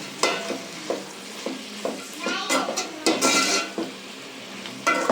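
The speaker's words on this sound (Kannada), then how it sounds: "ನೋಡಿ ಈ ಥರ ಎಣ್ಣೆಲೆಲ್ಲ ಇದು ಫ್ರೈ ಆಗೋ ಥರ ನೀಟಾಗಿ ಮಿಕ್ಸ್ ಮಾಡ್ಕೋಬೇಕು" Fenugreek leaves stirred through hot oil in a pan, with a steady sizzle under repeated scraping strokes of a spatula and light clinks against the metal, close and fairly loud, with no talking.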